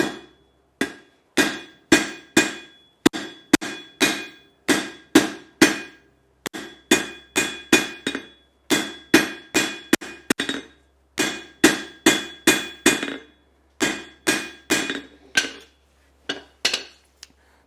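A hammer strikes hot metal on an anvil while forging a cocktail stirring spoon, with close, ringing blows in steady rhythmic runs separated by brief pauses.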